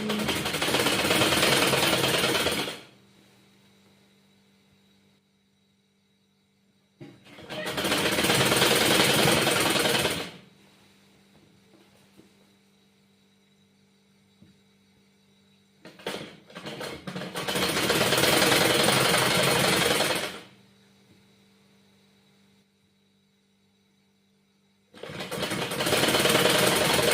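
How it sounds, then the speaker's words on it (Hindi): Sewing machine stitching a shirt collar, running in four loud bursts of a few seconds each, separated by quiet pauses with a low steady hum. "यहाँ से इस तरह से हमें सिलाई लगा लेनी है"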